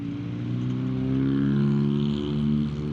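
A loud, throaty car exhaust rumbles steadily, swelling slightly as the engine revs, with a deep low drone throughout.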